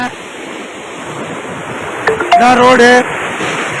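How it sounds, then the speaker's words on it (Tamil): Seawater surges over a coastal road at Pazhaverkadu (Pulicat) near Karungali village during rough seas, a steady loud rushing wash that fills the whole stretch, with someone speaking briefly near the end. "இந்த வழியில் கடல் தண்ணி அப்படியே வந்து கொட்டிருச்சு"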